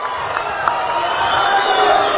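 A large crowd at a public gathering applauds and cheers in a steady, dense wash of clapping and voices that holds for the whole moment.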